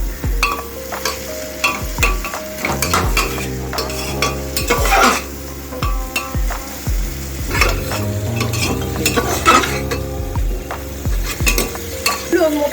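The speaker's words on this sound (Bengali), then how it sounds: "ভালো করে ফ্রাই করতে হবে।" Chicken pieces frying over high flame in a pan, sizzling steadily while a spatula stirs and scrapes, with repeated metallic clinks and knocks against the pan.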